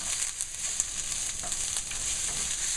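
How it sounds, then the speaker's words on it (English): Guisado meat sautés in a pan with a continuous close hiss of frying and a few soft stirring scrapes, and there is no talking. "a nice saute on there"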